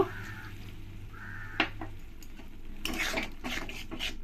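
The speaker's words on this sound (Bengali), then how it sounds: "জলটা দিয়ে ভালো করে সব কিছুর সঙ্গে মিশিয়ে নেব" A spoon scrapes and stirs water through turmeric and salt in a pan for a banana-flower paneer dish, giving a few soft clinks and wet swishes, briefly and close by.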